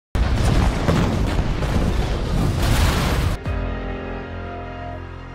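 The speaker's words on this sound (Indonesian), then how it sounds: "Tiba-tiba bom besar pun meledak." A large bomb detonates in a massive roaring blast that stays loud for about three seconds and then cuts to a lower, lingering rumble with ringing tones.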